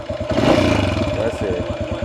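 A Yamaha XT 500 single-cylinder motorcycle engine runs close by with a steady, thumping idle pulse and a mechanical clatter, while someone speaks over it.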